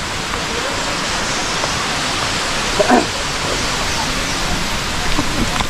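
Dao Falls on Samal Island, a steady broadband rush of falling water filling the whole stretch, close and loud, with brief faint voices in the background.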